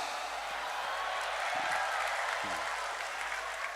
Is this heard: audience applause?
yes